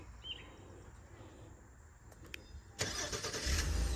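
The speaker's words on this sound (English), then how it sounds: "it blinked, it started, the engine's running. You can hear it" A 2023 Honda Ridgeline pickup fires up by remote start: quiet outdoor ambience with a few faint clicks, then the engine catches with a sudden crank and settles into a steady close idle.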